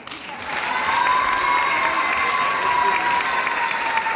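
Audience applause at a charity concert, a steady dense wash of clapping that swells in within the first half second and holds loud and even to the end, with a faint sustained tone running beneath it.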